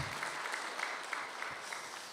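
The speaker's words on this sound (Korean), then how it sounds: "다시 한번 박수 한번 해주시기 바랍니다." A church congregation claps for the choir during a Korean Sunday service, a soft, even wash of many hands with a few sharper claps standing out, distant in a large room.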